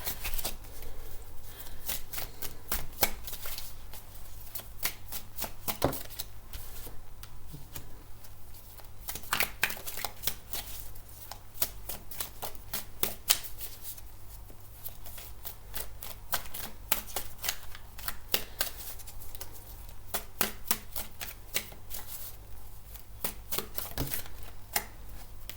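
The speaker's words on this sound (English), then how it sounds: "I mustn't have shuffled them properly from the last reading" Tarot cards are shuffled by hand in a rapid, continuous run of crisp riffling and slapping bursts, close and fairly quiet over a low steady hum, with no talking.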